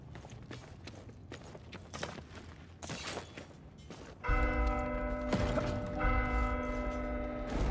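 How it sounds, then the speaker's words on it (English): A large bell rings out with a sustained, ringing tone in Warhammer Vermintide, arriving loudly after muffled game noise and footsteps and holding steady through the rest of the moment. "Can we please ring the bell?"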